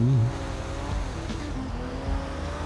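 Car engines in the video game GTA, with police cars following tow trucks. A single engine revs and strains in a short burst, followed by a lower rumbling drone and tonal whine. There is no talk.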